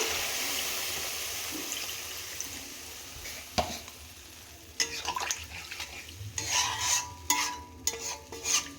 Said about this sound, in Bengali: কষানো হয়ে গেছে, জল দিয়ে দেবো।